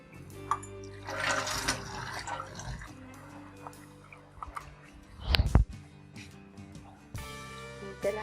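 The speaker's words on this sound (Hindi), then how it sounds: "और इसी में थोड़ा सा और पानी डाल के" Water pours into a pot of dal cooking with blended onion, tomato and green chilli paste, a splashing, gurgling stream in bursts near the mic, ending in a brief louder slosh.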